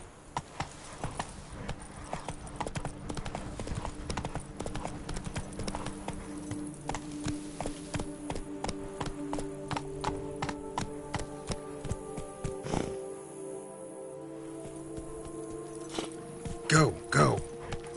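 Hooves clip-clop in a rapid galloping rhythm from a horse ridden in the video game The Witcher 3, steady and close throughout with a few sharper knocks near the end.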